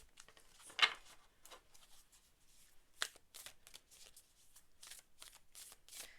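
Tarot cards being shuffled in repeated quick riffling bursts, crisp papery flutters close to the microphone with short pauses between them.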